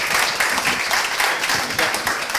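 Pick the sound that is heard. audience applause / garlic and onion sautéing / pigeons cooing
audience applause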